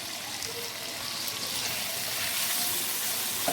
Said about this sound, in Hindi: यहाँ पे मैं शामिल करूँगी चिकन की भी अच्छे से हम करेंगे 5 से 7 मिनट भुनाई